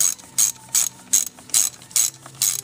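A ratchet snugging bolts on a Toyota Corolla valve cover gives loud, close clicking bursts, about seven evenly spaced runs of pawl clicks with nothing else heard.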